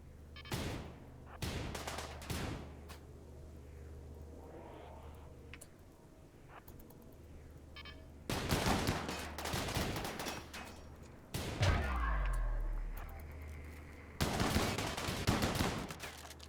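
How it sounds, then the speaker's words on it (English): Inferno cannon firing in a floating-islands survival strategy game, loud bursts of rapid crackling gunfire-like blasts in several separate volleys with quieter gaps between them and no talking. "Alright, one inferno cannon, and it's Nora again"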